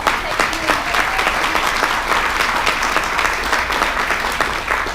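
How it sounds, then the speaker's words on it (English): Conference audience applauding a speaker from a payroll providers association, steady, full clapping at an even level throughout the room. "So, we can all give him a round of applause."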